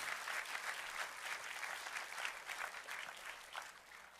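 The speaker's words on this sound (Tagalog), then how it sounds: "Pumalakpak ka dyan kung ikaw ay naniniwala." A church congregation claps together in a steady, dense patter of applause that continues without pause, moderately loud and without voices.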